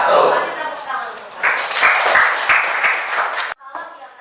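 Classroom applause from students after a presentation, a dense, steady patter of many hands clapping that fades with a sharp cut near the end, with a few voices mixed in.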